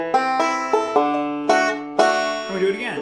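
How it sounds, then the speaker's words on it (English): A five-string banjo picks out the shot section of a song, with bright plucked notes ringing in quick pinch-and-roll patterns and accented attacks roughly every half second, close and clear with no talking. "this is what the shot sound like"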